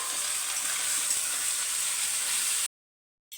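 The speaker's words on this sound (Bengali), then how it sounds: "এবার আদা আর রসুনের পেস্টটা ভালো করে মশলার সাথে কষিয়ে নিচ্ছি।" Ginger and garlic paste sizzling with spices in a pan for mutton kosha, a steady bright frying hiss at close range that cuts off abruptly near the end.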